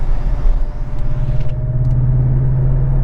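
Steady low engine and exhaust drone from a Porsche 718 Cayman GTS with a Fabspeed Supercup exhaust cruising at light throttle, a smooth continuous rumble with road noise and no talking.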